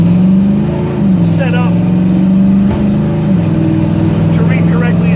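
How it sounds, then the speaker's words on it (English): A 1963 Chevy C-10 shortbox two-wheel-drive pickup's engine runs loud and close with a steady hum that rises and settles as it is revved, while someone talks over it. "one more quick acceleration and we'll end this video"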